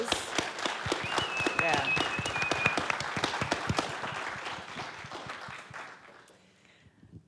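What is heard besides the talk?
applause for the event sponsors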